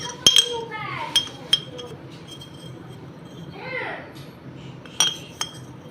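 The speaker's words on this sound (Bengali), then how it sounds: "ভর্তি করে 2 চামচ ইনস্ট্যান্ট কফি দিয়ে দিলাম" A spoon clinks sharply against a glass while scooping instant coffee for Dalgona coffee, several bright metallic taps spaced apart, with quiet scraping between and a voice talking in the background.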